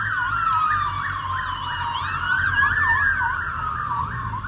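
Police siren wailing loudly and continuously in sweeping rising-and-falling cycles, close by, over a low rumble of road traffic, heard on a ride with a group of motorcyclists.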